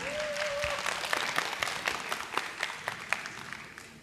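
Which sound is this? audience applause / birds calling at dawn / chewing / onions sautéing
audience applause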